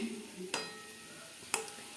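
A taro dish of kochu stems gently sautéed in a pan with garlic paste, a soft low sizzle broken by two sharp spatula scrapes, close and fairly quiet.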